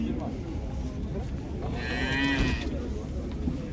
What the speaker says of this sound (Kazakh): Жас сиыр.